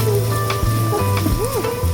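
Meat added to a hot pan for a Filipino mixed-vegetable dish sizzles steadily and loudly, with stirring scrapes and clinks of a utensil over the constant frying hiss.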